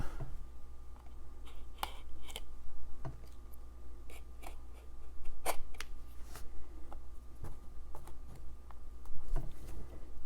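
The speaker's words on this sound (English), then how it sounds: "I think up here we have to cut the tape." Scissors snipping through packing tape on a mailed parcel of trading cards: scattered sharp clicks and snips of varying strength over a steady low hum, with quieter rustling between cuts.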